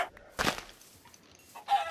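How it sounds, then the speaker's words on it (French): Chickens in a survival video game give two short, clipped clucks about a second apart, quiet and close, with near silence between them. "Tiens, encore des poulets."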